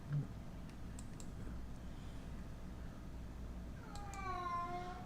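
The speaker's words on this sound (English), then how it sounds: "Oh no, that cat's going to start." A cat meows near the end, one clear drawn-out wavering cry after a quiet stretch of low indoor background hum with a few faint clicks.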